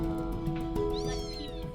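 A small kitten meows once, a thin rising-then-falling cry, close by over a soft background hum.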